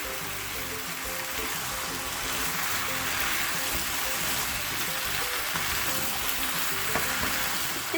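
Carrots and meat fry in oil with meat juices for nikujaga, giving a steady, even sizzle that stays close and constant throughout with no talking.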